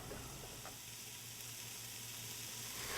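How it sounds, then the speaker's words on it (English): Thyme sizzles in hot oil in a pot for potato chowder, a soft, steady frying hiss with a low hum underneath, fairly quiet and alone. "you can hear this is sizzling nicely and sauteing all of these flavors together"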